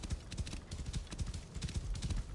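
Horse hooves in Assassin's Creed Origins clip-clopping in a steady rapid rhythm, close and fairly loud over faint ambient noise.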